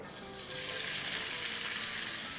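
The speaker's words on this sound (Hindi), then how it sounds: "इसको थोड़ा सा सौटे करेंगे, ब्राउन नहीं करना है, थोड़ी सी सॉफ्ट करनी है।" Chopped onion hitting hot oil in a pan, with a soft sizzle that jumps to a loud, steady, close hiss of frying.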